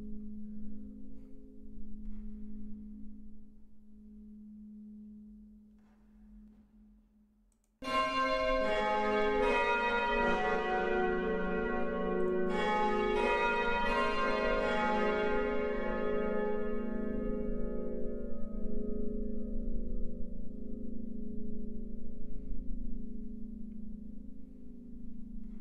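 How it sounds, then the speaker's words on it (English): Virtual church bells in a Roblox Italian bell-ringing game sound the half past chime, a loud, dense peal that strikes suddenly after a low steady hum and keeps ringing, with a second burst of strikes partway through, no voices. "So that's your half past chime"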